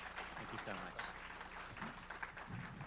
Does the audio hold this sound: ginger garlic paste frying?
no